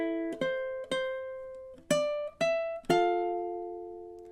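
A ukulele plays measure 7 of a song, six plucked notes and chords ringing out in a slow, halting rhythm, soft and close, with no voice.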